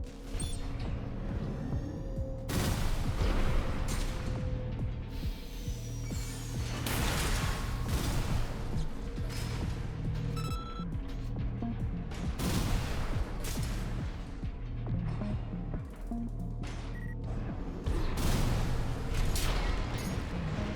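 A mech's weapons firing in Armored Core VI, with repeated loud bursts and booming shots at irregular intervals over a steady low engine hum, with no voices.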